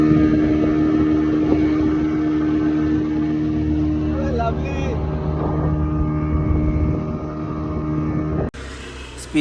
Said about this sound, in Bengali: আমরা দুজনে দুটো টিকিট কেটে নিলাম স্পিড বোটে রাইড করবো বলে